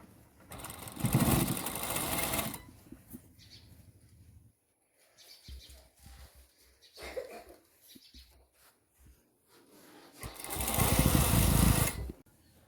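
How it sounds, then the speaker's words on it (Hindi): A sewing machine stitches elastic onto a shalwar in two loud, steady runs, one at the start and one near the end, with a quiet stretch between them where someone speaks. "यहाँ पे मैं अब सिलाई लगा लूँगी"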